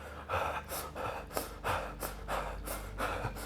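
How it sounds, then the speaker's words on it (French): Rapid, uncontrolled breathing of a person hyperventilating on entering icy water: quick, loud gasping in-and-out breaths through the mouth, about two per second in a steady rhythm, close up. "Il inspire, il expire par la bouche. Son rythme est accéléré."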